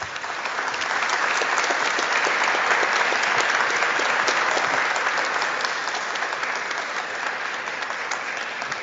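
Audience at a civic forum breaking into sustained applause, a dense wash of clapping that swells quickly and holds steady throughout with no voices on top.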